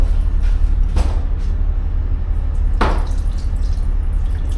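Hot shower water runs steadily aboard a 2GO passenger vessel, a continuous hiss with a couple of brief splashy bursts of spray.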